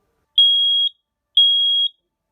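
Ceiling-mounted smoke alarm under test, giving two loud, shrill, identical beeps of about half a second each with equal pauses, part of a temporal code 3 pattern, alone in a quiet room.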